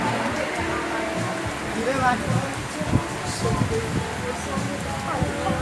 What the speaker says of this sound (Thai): ฝนก็ยังตกเบาๆนะครับผมตอนนี้